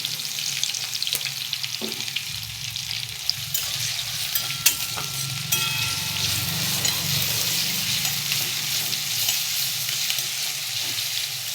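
Onions sizzle and crackle steadily in hot oil, frying into crisp birista for a meatless biryani, with occasional stirring clinks; close, continuous and alone with no talk.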